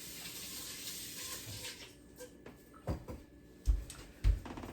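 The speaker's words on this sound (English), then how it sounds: "let me just rinse my hands here for a minute" Water from a tap runs quietly as hands are rinsed beneath it, a soft steady splash that fades out, followed by a few louder clunks and knocks nearby.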